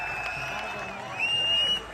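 Crowd clapping and cheering at a Gurjar festival gathering at the Surajkund fair in Faridabad, a dense steady wash of applause that swells toward the end, with amplified sound running underneath.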